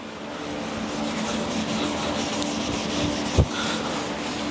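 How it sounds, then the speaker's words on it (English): A cloth rag wiping excess stain off walnut veneer on an Eames-style Plycraft lounge chair, a steady close rubbing swish that runs throughout, with one brief louder knock near the end. "I'm going to get my clean rag once again and just do a final wipe down, get all the excess off"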